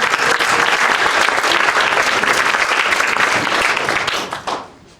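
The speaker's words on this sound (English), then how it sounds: "Give him an enormous round of applause." Audience at a summit applauding, a dense, loud burst of clapping that holds steady for several seconds before fading out at the end.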